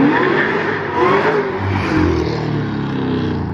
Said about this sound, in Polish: Jakie to jest głośne!